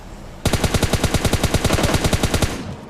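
Rapid automatic gunfire in PUBG Mobile Lite, a steady burst of about twenty evenly spaced shots that begins abruptly and runs loud and close for more than two seconds with no talk.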